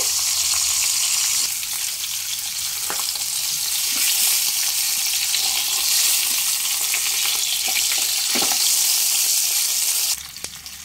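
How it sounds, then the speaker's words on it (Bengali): A catla fish head fries in hot mustard oil over a medium flame. A loud, steady, close sizzle hisses throughout with a few faint clicks, then cuts off abruptly near the end. "মিডিয়াম ফ্লেমে লাল করে ভেজে নেব।"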